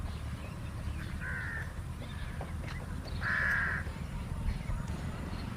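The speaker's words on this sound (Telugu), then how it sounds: "చెవిటి కాకులు కూడా ఇక్కడ ఎక్కువగానే ఉంటాయి" Crows caw twice outdoors on a summer nature field trip, each a short, harsh, fairly near call, over a steady low background rumble.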